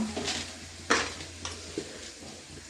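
Coriander seeds fry in a pan for a sambar masala, giving a soft steady sizzle with a few louder scrapes and clinks of a spoon stirring against the metal.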